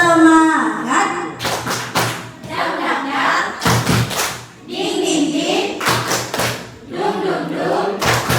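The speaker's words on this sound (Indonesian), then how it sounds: "boleh kita tepuk semangat dulu?" A group performs a rhythmic spirit clap, sharp unison hand claps landing in quick clusters between stretches of shouted group chanting, loud and close throughout.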